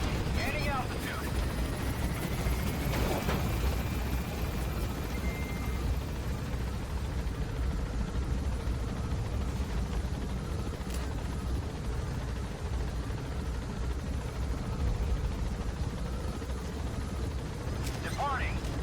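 A helicopter in Metal Gear Solid V: The Phantom Pain gains altitude and departs, its steady heavy rotor roar filling the whole stretch with a broad, constant rumble and occasional sharper bursts.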